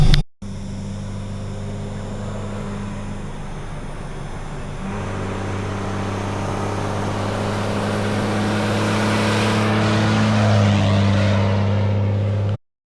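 An old Unimog truck drives steadily along a bush track during gold fossicking in North Queensland. Its engine hums continuously and grows louder and rougher toward the end. No one speaks.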